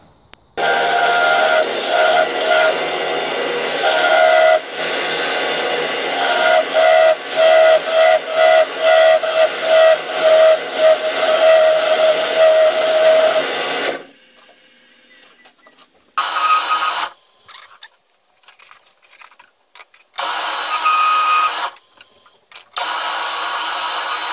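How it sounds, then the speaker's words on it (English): A parting tool cuts into wood spinning on a lathe, a steady loud grinding hiss with a ringing squeal for about fourteen seconds, followed by shorter separate bursts of cutting between pauses. "I'm just going to use a parting tool and then some dowel calipers to see if to get it down to the right size"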